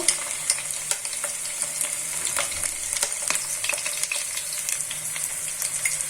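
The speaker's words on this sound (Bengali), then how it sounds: "এবার জিরা বাটা দিয়ে দিব, আদা রসুন বাটা দিয়ে দিব," Cumin paste and ginger-garlic paste sizzling in oil for a silver carp fish curry with cauliflower, potato and tomato, a constant bright hiss broken by repeated stirring clicks and scrapes of a spoon, close and without speech.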